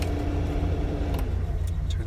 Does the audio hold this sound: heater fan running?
yes